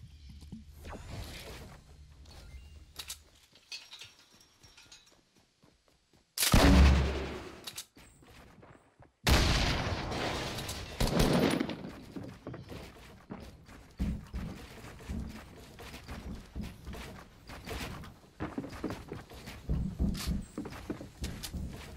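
Gunfire in the Fortnite battle royale video game, bursts of shots and loud blasts mixed with rapid clattering and footsteps, coming in uneven clusters at varying distances.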